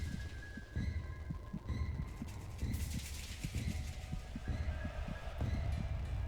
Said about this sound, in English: Reika's heartbeat accelerated.